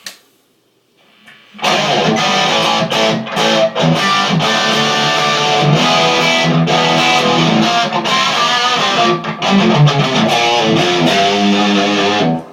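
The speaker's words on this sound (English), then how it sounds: "For my overdrive channel, I have two. I am on the first one." Loud, heavily distorted electric guitar on the first overdrive channel of an amp set to 50 watts, playing chords and riffs continuously after a brief quiet start, with a thick, crunchy overdriven tone.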